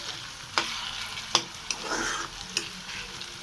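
Onions frying in oil for chicken tikka biryani, a steady sizzle broken by several sharp scrapes and clacks of a stirring spoon against the pan, with no voices.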